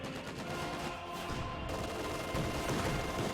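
Sustained .50 cal machine gun fire in a World War II video game, steady dense bursts at a constant, fairly loud level with a brief lull near the middle and no voices.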